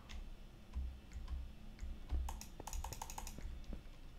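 Rapid typing on a computer keyboard, a dense burst of clicks and key taps that picks up in the second half, close and fairly quiet with a low background hum.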